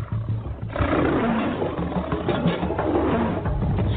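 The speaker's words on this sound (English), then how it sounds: "The tiger's roar and the infrasound that it contains can be used to paralyze their prey and cause confusion in their victim" A tiger roaring, a loud, deep, rumbling growl that swells and carries on almost without a break, heard close with a muffled, bass-heavy tone and no speech.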